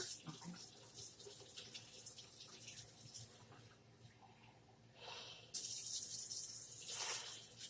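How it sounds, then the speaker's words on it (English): Water running from a kitchen tap into a half-cup measuring cup while making apple crisp, a soft steady hiss that grows louder and brighter as the flow strengthens toward the end, with no talking. "Now that's half a cup of water. So we're going to fill that over here."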